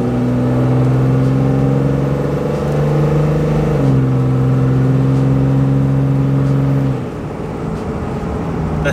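Cummins 5.9 diesel pickup with a freshly built transmission pulls hard from a roll, a loud, steady droning engine note climbing through a gear, then dropping as the throttle eases near the end.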